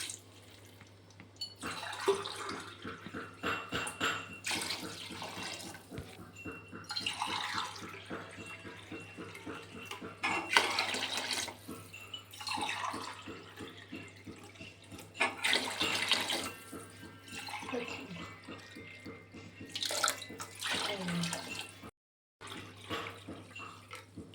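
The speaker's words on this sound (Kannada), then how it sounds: "ನಾಲ್ಕು ಲೋಟ ಅಕ್ಕಿ ತಗೊಂಡಿದ್ದೀನಿ, ಅದಕ್ಕೆ 8 ಲೋಟ ನೀರು ಹಾಕ್ತಾ ಇದ್ದೀನಿ." Eight cups of water go into a pot holding four cups of washed Sona Masuri rice, a near, continuous splashing pour in repeated bursts with a brief pause near the end and no talking.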